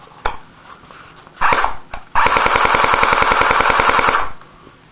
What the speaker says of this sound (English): That's semi. This is auto.